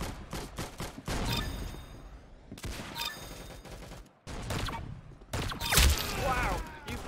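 Rapid bursts of gunfire from the Roblox game Arsenal, with clustered shots and short automatic volleys that come in several waves, loud and close with a few gaps between them.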